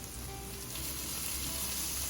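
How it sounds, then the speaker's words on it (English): Fresh tomato hits a hot pan and sizzles, a steady close hiss of frying that swells slightly partway through and holds at a constant level, with no talking. "we're going to add some fresh tomato, which will add some of that moisture. And you'll start to hear that moisture hit the pan too."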